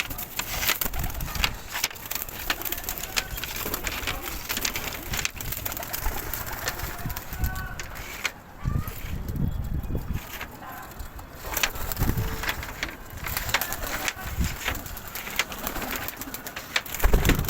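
Pigeons coo repeatedly in a pigeon loft, their soft throaty calls overlapping close by amid rustling, wind and scattered background noise.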